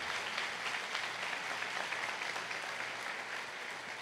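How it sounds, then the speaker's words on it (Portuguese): A church congregation gives a brief burst of applause during a sermon, a steady wash of many hands clapping at a moderate distance for several seconds. "Você aplaude o nome de Jesus uma vez?"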